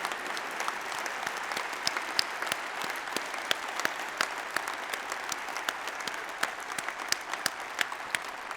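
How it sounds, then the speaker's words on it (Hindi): A convocation audience, standing at MIT, claps steadily in a continuous wash of applause, moderately loud with sharper individual claps punctuating it throughout. "जिनका सम्मान हुआ उनके लिए जरा खड़े होकर जोर से तालियां बजाओ"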